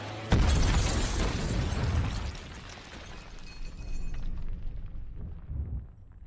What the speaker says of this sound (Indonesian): sebuah ledakan besar terjadi